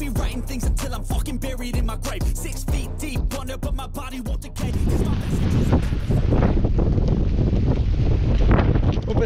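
Strong wind buffets the microphone while someone cycles through dry Patagonian country near El Chocón, first as rhythmic gusty thumps, then as a steady, loud, roaring rush.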